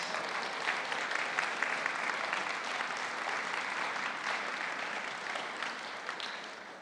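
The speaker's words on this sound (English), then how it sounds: "a round of applause for all of us" Audience members at a community gathering clap together in a soft, sustained round of applause, an even wash of many hands heard at some distance that tapers slightly at the end.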